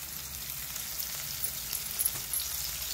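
Okra with green chillies and turmeric frying in a pan over a low flame, giving a steady, close sizzle with soft stirring scrapes and no talk.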